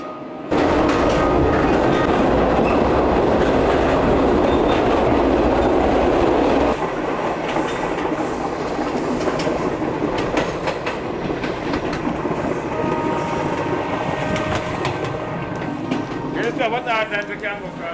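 Loud, steady rumble of a train carriage rolling on rails in Jamaica, with rhythmic clattering and metallic rattles throughout; a squeal rises near the end.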